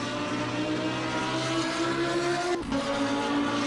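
Engine of a million-dollar W12-powered car in the Assetto Corsa racing game, a steady droning tone that shifts pitch as the car changes gear midway, loud and continuous with no talking.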